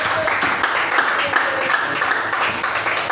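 A church congregation applauding the Lord Jesus, steady crowd clapping and cheering throughout with voices calling out over the applause.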